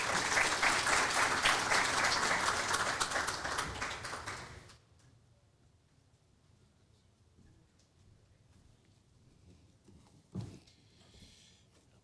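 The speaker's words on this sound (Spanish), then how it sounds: "Les recibimos con un fuerte aplauso" Audience applause at an academic conference on international migration, a loud burst of many hands clapping for several seconds that cuts off abruptly, leaving a quiet room with a brief bump or knock afterward.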